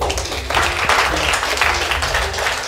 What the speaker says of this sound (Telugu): కొట్టండి మరి క్లాప్స్ గట్టిగా.